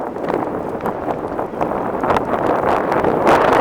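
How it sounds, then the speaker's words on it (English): Steady wind buffeting outdoors, a continuous rushing roar that swells slightly louder toward the end, with faint rustling underneath. "Man, it's gotten windy here."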